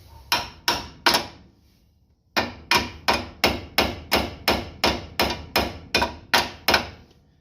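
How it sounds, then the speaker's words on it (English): A hammer strikes a stuck bolt on an 80 repeatedly, loud close metallic blows in a steady rhythm, three hits, a short pause, then a long even run of about a dozen more. "So I'm just going to give it another hit and to see if it moves at all"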